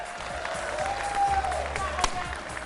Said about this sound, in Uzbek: 3 qarsak azizlar